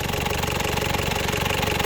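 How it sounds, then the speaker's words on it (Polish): A Toyota Land Cruiser engine with about 109,698 km on it idles smoothly, a steady, even, close rumble with a fine rhythmic pulse and no other sounds. "Cichuteńko, mięciutko. Jest jedwabista praca tego silnika."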